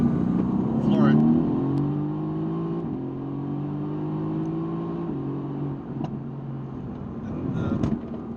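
A 2017 Mercedes-AMG GT S accelerating at full throttle in race mode, engine note climbing through several rising pulls with gear changes, heard from inside the car at moderate level with a faint thud near the end.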